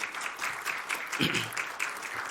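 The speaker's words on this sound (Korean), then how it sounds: "박수는 나중에 한꺼번에 치셔도 되겠습니다." An audience at a church service broadcast with a Christian radio station claps in a dense, steady round of applause, with a brief voice heard partway through.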